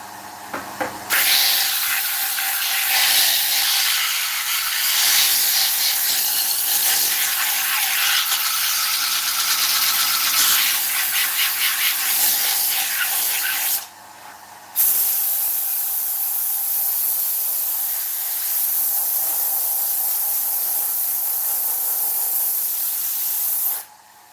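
An oak bowl spinning on a wood lathe is sanded with 120 grit sandpaper, giving a loud, steady hissing rasp that cuts off briefly near the middle, then resumes until the end; no talking.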